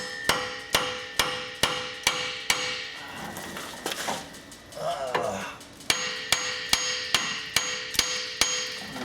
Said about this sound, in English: now we just grab our 2-pound. Just gonna give her a couple whacks